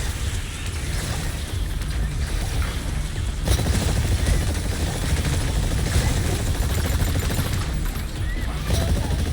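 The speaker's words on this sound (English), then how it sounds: "Initiating VTOL defense." Continuous dense roar of a VTOL aircraft hovering during a defense mission in the video game Exoprimal, loud and steady throughout, with heavy low rumble, gunfire-like bursts and a sharp impact partway in.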